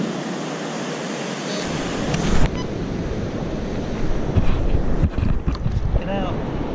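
Ocean waves wash onto a Florida beach with a constant broad rushing surge, heavy wind buffeting the microphone and occasional swells of louder splashing.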